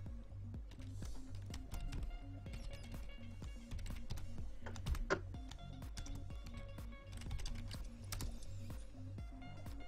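Someone types a name on a computer keyboard, a close, quiet run of irregular key clicks over a low steady hum from a game in the background.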